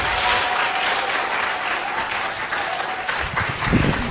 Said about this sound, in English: let's give a round of applause to Mr. Brown for coming out today